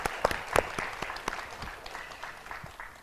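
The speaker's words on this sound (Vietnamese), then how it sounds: "Bây giờ cho một tràng pháo tay đi cho nó sôi nổi này" Scattered, sparse claps from a small audience at an informal gathering, a few sharp hand claps spread over a few seconds before fading, fairly faint and uneven.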